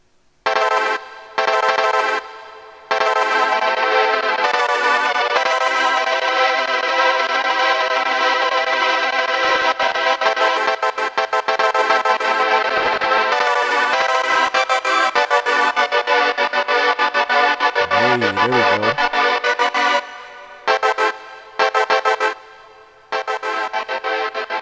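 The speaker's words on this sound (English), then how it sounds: "And now when I uncheck that, we'll hear an echo, so to speak." Synthesized tones run through an echo delay effect in the OverBlast wave editor, bright sustained notes with trailing repeats and brief gaps, ending in a few choppy bursts, loud and without speech.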